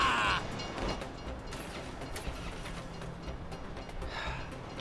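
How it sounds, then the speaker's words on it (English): A train rolling past in Grand Theft Auto V, a steady broadband rumble with faint clatter that holds at a moderate level through the whole stretch, with no voices. "If you were local, you'd know the train comes by right now."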